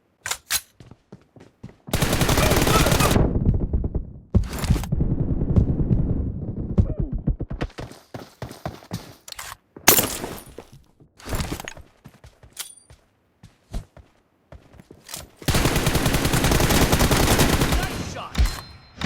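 Automatic gunfire in the battle game PUBG rattles out in long, loud sustained bursts with shorter volleys and scattered single shots between them, close and dominant, with no talk over it.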